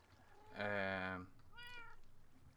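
A cat meows twice inside the Minecraft game: a loud, drawn-out meow lasting most of a second, then a shorter, higher meow. The two meows stand close and clear against low background hum.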